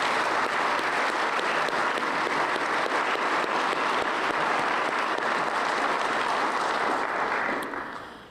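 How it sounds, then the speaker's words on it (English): A crowd at a basic law enforcement training graduation ceremony at a community college applauds in a long, dense, steady burst of many hands clapping that tapers off near the end, with no talk. "Let's give them a round of applause."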